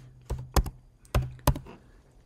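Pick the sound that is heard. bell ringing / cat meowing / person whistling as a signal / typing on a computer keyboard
typing on a computer keyboard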